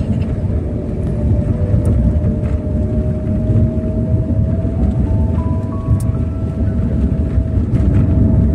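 Train travelling on the railway line toward Konkan gives a loud, steady rumble of wheels and carriage noise throughout, with a faint tonal whine rising midway.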